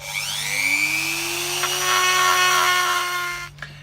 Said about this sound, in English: we're going to cut it like with a die grinder or a Dremel type tool